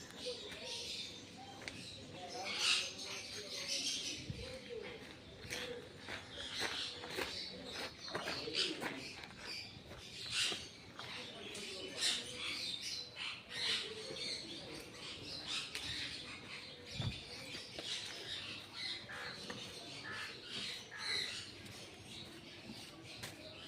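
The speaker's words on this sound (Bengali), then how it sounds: "তোমাদের কেমন লাগলো পাখিগুলো বলবেন" Pigeons or doves coo repeatedly at close range alongside scattered chirps and shuffling wing or foot sounds, with people talking intermittently in the background.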